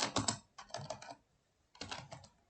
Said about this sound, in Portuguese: colocar aqui Salvador como e-mail